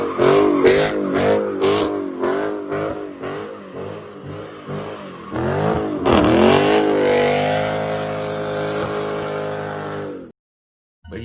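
A Dodge Scat Pack revving hard while drifting donuts, engine pitch repeatedly rising and falling in quick bursts, then a long sustained high-rev wail before cutting off abruptly into near silence.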